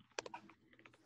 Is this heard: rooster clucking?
no